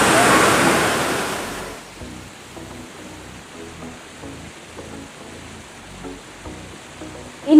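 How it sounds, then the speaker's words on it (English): Chitre Falls, a forest waterfall in Mangbar forest on the route to Kalimpong, gives a loud broadband rush at first that drops after about two seconds to a steady, softer wash of falling water with faint low thumps. "I am right now in front of Chitre waterfalls."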